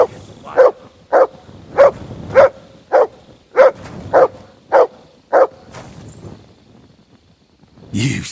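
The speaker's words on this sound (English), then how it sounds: "You silly mutt." Dog in the medieval game Kingdom Come: Deliverance II barking nine times at a regular beat, each bark close and loud with a whiny edge, then a pause and a burst of noise at the end.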